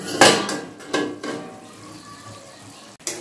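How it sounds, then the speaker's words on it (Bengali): A metal lid lifts off a pot of chicken masala with a clatter and a scrape, followed by quieter clinks and light bubbling of the cooking contents, and one more sharp knock near the end. "আমি এবার এই ঢাকাটা খুলে দিচ্ছি"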